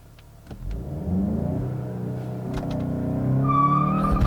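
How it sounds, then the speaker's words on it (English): A 2019 Volkswagen GTI engine revs up and holds high, then the car launches hard using launch control, the engine note climbing loudly and close as it accelerates away. "let's try the launch control one more time"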